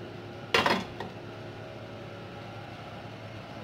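Beans tipped into a pot of Nigerian-style jollof rice already holding crayfish, cooked without tomato: a short clattering burst near the start, then a steady quiet background hum.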